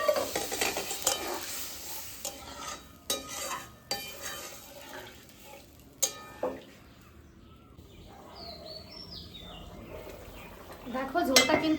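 Water goes into fried spices in a pan for a boal fish curry, with scattered stirring clatters and utensil knocks, then a softer bubbling stretch before a louder sizzle near the end.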